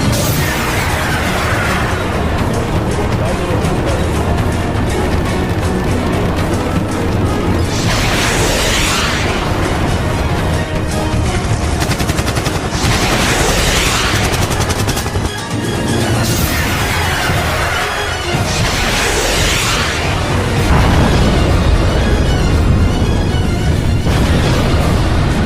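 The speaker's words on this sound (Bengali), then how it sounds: "সাথে সাথে সমস্ত মিসাইল এক এক করে কিংকং এর উপর অ্যাটাক করতে থাকে" Missiles are fired at King Kong and burst against him in a continuous, loud roar of blasts, booms and crashes. The explosions run unbroken and densely layered from start to finish.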